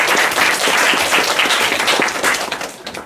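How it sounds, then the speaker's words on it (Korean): A church congregation applauds to welcome a pastor coming up to preach, a dense, steady wave of many hands clapping that holds strong before thinning slightly toward the end. "박수로 환영하겠습니다."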